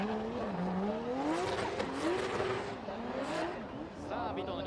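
Drift car on a D1GP qualifying run at Odaiba, Tokyo, engine wailing with rising and falling pitch as it revs and slides, with tire squeal over it, mid-distance and steady, under a commentator's voice.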